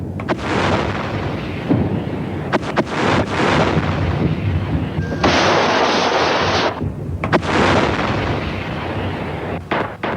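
Self-propelled howitzers firing artillery, loud heavy booms and rumbling blasts in succession, with wind buffeting the microphone between shots.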